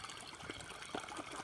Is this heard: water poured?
yes